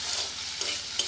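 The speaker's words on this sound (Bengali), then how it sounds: "আলু একটু ভেজে নেব" Small potato pieces with salt and a pinch of turmeric frying over low to medium heat in a pan, a steady close sizzle with two brief scraping stirs.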